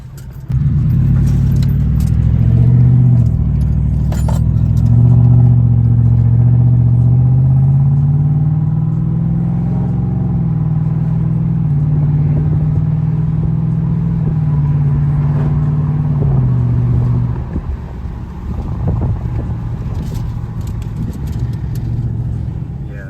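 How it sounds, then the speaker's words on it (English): A 2018 Ford F-150 with the 5.0 V8 and an upgraded exhaust rumbles loud and close, holding a deep, steady burble that swells in the middle and then settles back to idle, with no talking. "Let's hear this exhaust."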